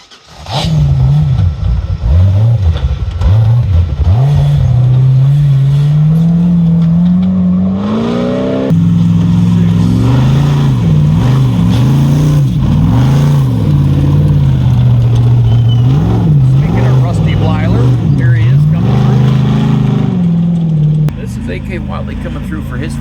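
Ultra4 off-road race car running its final lap at Rausch Creek, engine loud and close, revving and surging in waves throughout, with the pitch rising and falling as it works through the course and a speaking voice over it.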